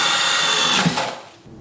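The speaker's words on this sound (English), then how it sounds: "It's the DCD 801 from Dewalt, and this thing is just an excellent all-around drill." A Dewalt DCD801 cordless drill whirs briefly at high speed, close and loud, then winds down and stops within about a second.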